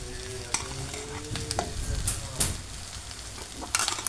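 Chopped tomatoes frying with cauliflower masala in a pan, a steady close sizzle broken by several sharp scrapes and clicks of a stirring spoon.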